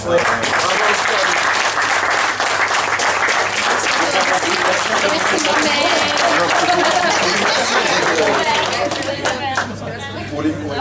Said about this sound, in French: qu'on applaudisse ceux qui sont là, qui ont fait les décorations